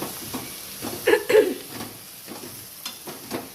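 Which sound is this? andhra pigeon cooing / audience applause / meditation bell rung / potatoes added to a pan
potatoes added to a pan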